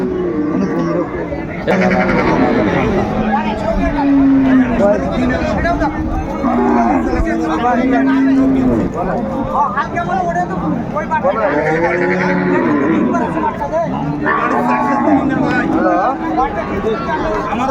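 Cows and calves mooing repeatedly at the Raniganj cattle market, several loud nearby lows rising over busy crowd chatter and voices throughout.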